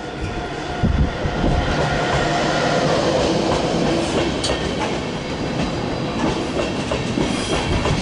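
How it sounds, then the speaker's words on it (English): An intercity train crosses the Hohenzollern Bridge in Cologne, a loud, continuous rumbling roar of wheels and carriages with rhythmic clatter over rail joints, close by and steady throughout. "Anyway, here's an intercity service."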